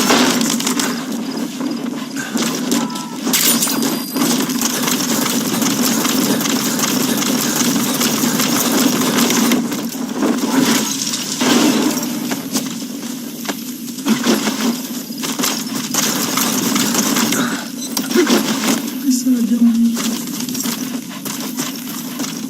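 A vehicle engine idles steadily in Metal Gear Solid V: The Phantom Pain after a vehicle drop, a loud continuous low rumble with scattered clanks and rattles over it.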